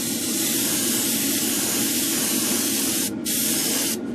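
A spray gun lays down a light dust coat of paint for a car-model group build, a loud steady hiss running almost unbroken, with two brief pauses near the end.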